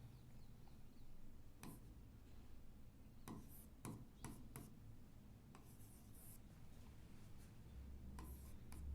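Set notation is written on a board during a Class 11 maths lesson on sets, with scattered tapping and scratching strokes in irregular short bursts, faint and close, with no talking.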